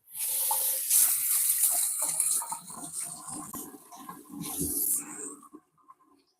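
Tap water runs steadily into a kitchen sink while hands are washed during home cooking, a continuous splashing gush lasting about five seconds before cutting off, close and fairly loud.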